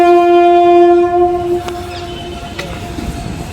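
An Indian Railways WAP 5 or WAP 7 electric locomotive sounds a loud, steady horn blast up close at Sarojini Nagar Railway Station, which cuts off as the engine rumbles on with clattering rail noise.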